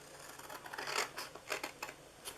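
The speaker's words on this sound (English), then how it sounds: "You're going to cut these two squares off right here" Scissors snip through paper while cutting squares off a treat box template, a quick run of several short crisp cuts, close and quiet with no talking.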